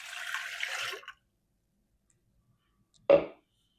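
Warm water pours into a bowl of bread dough with fresh yeast for soft rolls. A short steady trickle stops after about a second, then a single brief splash follows.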